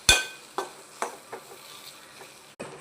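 Chilli parotta pieces with masala are stirred in a pan, a few separate scraping strokes at close range over a faint sizzle, with no talking.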